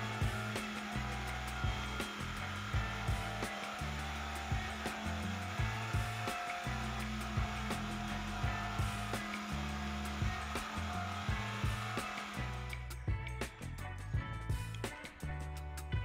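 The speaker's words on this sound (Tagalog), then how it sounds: "binutasan namin yung mas malaki gamit naman itong jigsaw" A jigsaw cutting a large hole in a wooden speaker box, a steady buzzing saw drone with rhythmic blade chatter throughout, loud and close, thinning out near the end.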